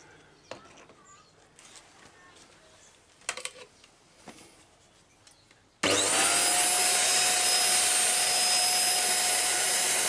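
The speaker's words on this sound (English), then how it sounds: "so I'll put the vacuum cleaner on it" A household vacuum cleaner switches on abruptly and runs at a loud, steady whine, sucking sand grains out of an RC car's electric motor, after a few quiet handling clicks and taps.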